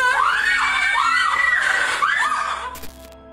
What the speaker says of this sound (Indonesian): Ada suara teriakan di kejauhan di video itu.